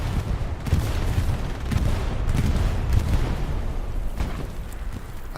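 Bombing run explosions in a video game skirmish rumble almost continuously, with repeated heavy booms and crackling bursts layered into a dense, loud, steady barrage.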